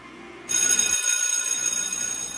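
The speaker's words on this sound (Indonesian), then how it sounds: "Saat bel pelajaran berdering" A steady electronic school bell rings continuously and loudly, starting abruptly after a short pause and sustaining without a break.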